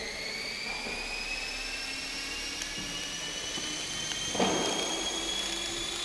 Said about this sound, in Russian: старт вертолета 450 размера. А, вертолет только-только набирает свои обороты